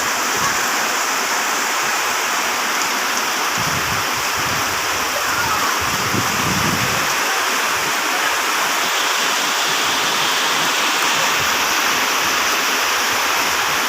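Heavy downpour over a village, a thick, unbroken roar of falling water, close and steady, with a brief low murmur partway through.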